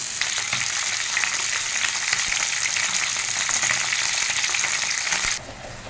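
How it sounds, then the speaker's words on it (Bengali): Onions fry in a pan with a bright, dense sizzle that holds steady and close for several seconds, then cuts off abruptly near the end. "পেঁয়াজটা ভেজে নিলাম"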